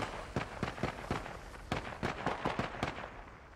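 Machine gun fire in the World War I shooter Isonzo, with rapid irregular bursts of sharp cracking shots at moderate distance over a short stretch, with no speech.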